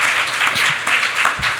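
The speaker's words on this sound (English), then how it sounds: "I feel like applauding for that comment." Audience applause during a panel discussion, a steady wash of many hands clapping throughout, fairly loud and close, with no talk over it.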